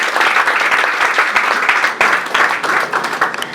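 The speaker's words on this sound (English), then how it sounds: "Please, let's give ourselves a round of applause." Applause from an audience at a fashion academy induction ceremony, dense crowd clapping sustained loud and close throughout, without voices over it.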